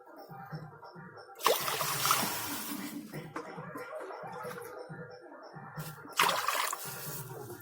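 Water poured into a wok for boiling potatoes, two splashy bursts of pouring over a steady trickle, close and moderately loud, with quiet clinks and kitchen movement between.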